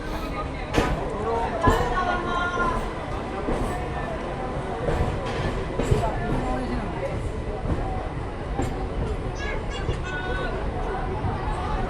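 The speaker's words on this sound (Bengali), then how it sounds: "নতুন 2 নম্বর প্ল্যাটফর্মের ট্রেন" The Purulia-Howrah MEMU train rolls into the new platform 2 at Masagram Junction, a continuous rumble and clatter under busy crowd chatter and nearby voices.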